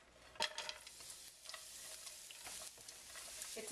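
Carrots cooking in a couple teaspoons of oil in a pan for Korean japchae, a low, quiet sizzle broken by sharp spatula clicks and stirring scrapes, with no talk.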